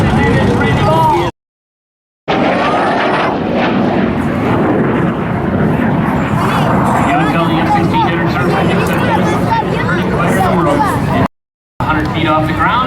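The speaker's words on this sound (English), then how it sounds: "That is the MiG 17, and that is Randy Ball." A MiG-17 jet fighter flown by Randy Ball thunders along at an airshow, a loud, rising jet roar broken by two short dropouts. Crowd chatter sits faintly underneath.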